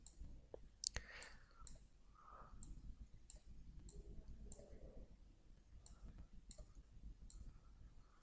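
Crisp mouse clicks repeat at a steady pace while applying Format Painter to headings in Microsoft Word, sounding close and light over a quiet room hiss with faint soft voice sounds.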